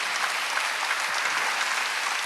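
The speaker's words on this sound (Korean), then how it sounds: "박수." Steady applause from a church congregation during a Wednesday worship service, a dense wash of hand claps holding at an even level throughout, close and alone with no voices over it.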